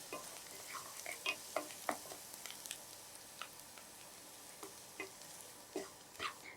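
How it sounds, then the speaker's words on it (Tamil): Semolina (rava) frying in a mix of oil and ghee with cashews for rava idli, heard as a soft, low sizzle under sparse, light scraping strokes of a stirring spoon. "பாதி ஃப்ரை ஆன பிறகு இதுலேயே நம்ம ரவையை சேர்த்துலாம்."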